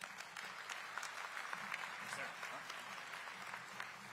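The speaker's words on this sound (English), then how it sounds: "So please give Danny a warm round of applause" Sustained applause from an audience at a DeKalb County State of the County address, a dense even patter of many hands that holds steady for several seconds, moderately distant and without breaks.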